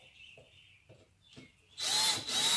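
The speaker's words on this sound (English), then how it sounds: "I'm gonna go ahead and follow up with the drill" A power drill whirs up after some quiet handling noises, running in two short loud bursts close by while driving screws into a wall to mount an outdoor hose spigot.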